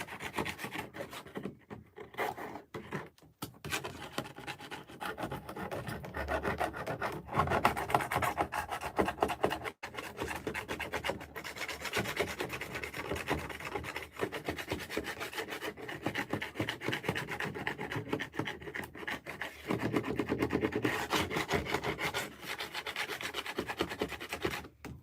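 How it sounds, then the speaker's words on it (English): Scraping stray bits off a small 4-inch Biscoff drip cake while decorating it: a steady, close rubbing and rasping scrape that continues for the whole stretch, with short pauses, and no talking. "I'm just scraping off these bits."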